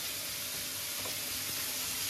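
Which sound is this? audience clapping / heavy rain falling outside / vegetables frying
vegetables frying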